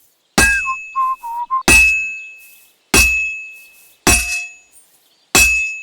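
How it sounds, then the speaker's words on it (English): A blacksmith's hammer strikes a sword blade on an anvil in Kingdom Come Deliverance 2, five loud ringing metallic clangs at even intervals, each decaying into a bright tone, with a brief whistle-like tone between the first two blows. "Now take the hammer and try hitting it a few times."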